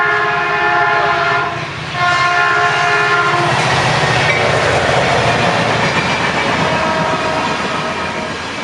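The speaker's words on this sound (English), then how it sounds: "Oh, here comes the train." A loud train rumbles past close by, its horn blaring in two blasts before the wheels clatter and roar on the rails.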